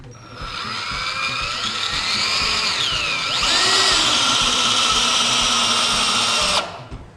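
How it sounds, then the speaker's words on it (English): A power drill whirs steadily for several seconds, driving a composite deck screw into a PVC deck board, its pitch shifting as the screw goes in, then stops abruptly. "the weight of the drill should be sufficient to perfectly install the fastener"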